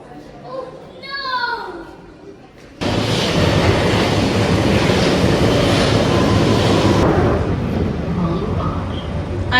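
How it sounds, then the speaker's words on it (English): London Underground Central Line train heading to Hainault via Newbury Park, a loud steady rumble and roar of the carriage in motion after someone talks briefly, settling slightly near the end. "This is a Central Line train to Hainault via Newbury Park."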